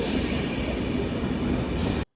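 A train pulls into a station platform at Hbf, its wheels rumbling and squealing steadily and close for about two seconds before the sound cuts off.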